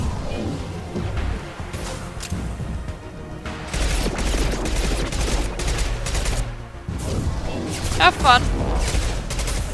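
Rapid bursts of Mass Effect 2 game gunfire crackle through a chaotic firefight, with dense overlapping shots and impacts throughout. Voices talk over the shooting.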